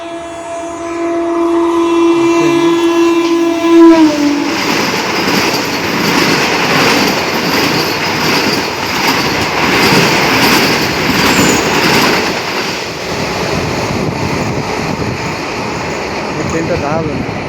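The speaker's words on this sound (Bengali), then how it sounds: "ওই দেখুন ট্রেন আসছে, রানাঘাটে ট্রেন আসছে" A train passes through Taherpur station without stopping, announced by a long loud horn blast before a roaring, rattling rush of wheels and carriages that keeps going close by.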